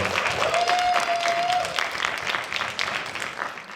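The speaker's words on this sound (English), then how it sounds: "Round of applause for Gardena Cinema also." Clapping from an audience at a theater event rolls on for several seconds, strong at first and slowly thinning out, with a faint whistle-like tone early on.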